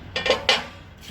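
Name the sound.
metal fireplace grate fitted into Liseo L71 stove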